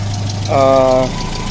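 A 1979 Volga GAZ 24 with a 2.4 liter engine idles with a steady low hum, close by, while a brief tonal whine rises over it for about half a second.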